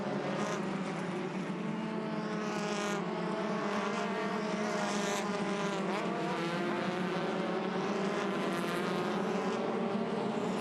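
Formula Ford race cars at Winton in a close four-car fight for the lead, engines whining and rising and falling steadily as the pack passes, loud and continuous with no talk.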